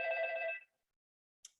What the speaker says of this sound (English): there's someone ringing my doorbell